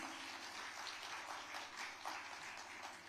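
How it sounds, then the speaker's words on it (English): Audience at a women's summit on gender equity in Tamil Nadu applauding, a faint, distant, continuous wash of clapping with no voices over it. "Can I have a big round of applause, everyone?"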